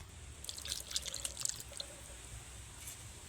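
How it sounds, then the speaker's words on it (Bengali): Water is poured into a cooking pot of rice and milk for egg pulao, giving soft, close splashing and dripping patter over a quiet, steady background hum. "আমি আর কিছুটা জল দিয়ে দিচ্ছি।"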